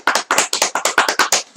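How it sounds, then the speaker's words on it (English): A few people clapping in a quick, uneven rhythm, about ten close, loud, distinct claps with brief gaps, in a radio studio setting. "I think we need a round of applause for us."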